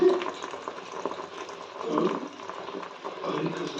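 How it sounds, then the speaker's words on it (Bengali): Curry, neem and tamarind leaves stirred with a spatula in boiling homemade hair oil, a soft continuous bubbling and sizzling with gentle scraping swells, close by, with someone talking quietly. "এই যে খুন্তি দিয়ে একটু নেড়ে নিই"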